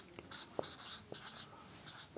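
Chalk or marker writing a physics definition on a classroom board: several short scratchy strokes in bursts with brief pauses, fairly close and quiet, no speech over them.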